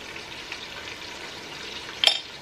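Garlic, ginger and spices such as turmeric frying in a pan at home, a faint steady sizzle with a sharper clink or stir near the end, no talk.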